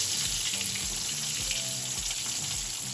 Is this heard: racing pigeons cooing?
no